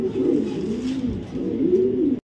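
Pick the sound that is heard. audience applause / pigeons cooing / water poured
pigeons cooing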